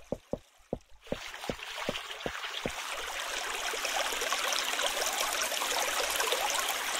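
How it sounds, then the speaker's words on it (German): Running water in Minetest, a steady broadband rush that swells in after a few sharp clicks at the start and continues alone at moderate loudness. "Scheiß Wasser hier."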